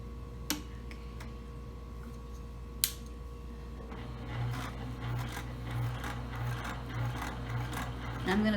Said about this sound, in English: I'm going to stitch across just to make sure that the webbing strap is attached to the fabric here